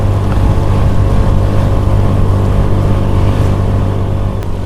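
Honda Beat Street scooter engine held at full throttle while touring on a road, a loud steady droning hum that stays constant and close with no talking.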